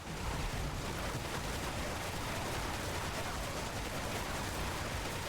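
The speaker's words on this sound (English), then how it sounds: "basically you just wait for him to stop firing" Sustained enemy gunfire in the Final Fantasy VII Remake video game: a dense, steady roar of rapid shots that holds at the same loud level throughout, close and unbroken, with no talking over it.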